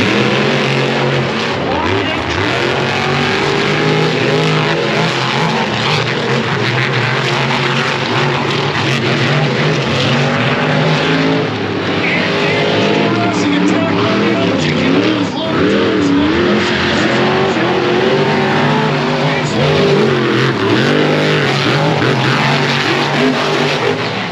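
Monster truck engines roar and rev continuously at a Charlotte Motor Speedway bash, a loud, dense racing din with tire noise, while an announcer talks over it throughout.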